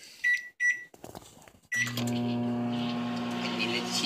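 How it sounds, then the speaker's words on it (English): Microwave oven heating a bowl of cheese sauce on high: two short beeps as it is set, then a steady loud electric hum with a low drone that runs on without pause. "Microwave high 1 minute."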